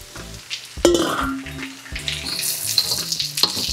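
Pork belly frying in a pan with caramelized onions, a steady loud sizzle broken by clanks and scrapes of stirring, with no talk over it.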